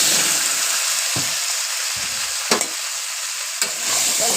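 Mixed vegetables stir-fried with spices, green chillies and five-spice seeds in a pan, with a steady close sizzle and occasional spatula scrapes and knocks against the pan, no talking.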